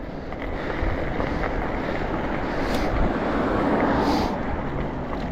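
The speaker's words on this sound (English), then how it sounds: "Back on road, just cruising. Got a strong headwind." Strong headwind roars and buffets against the microphone of a moving e-bike on the road, a loud, steady rush of wind noise that swells and fades slightly, with no voices.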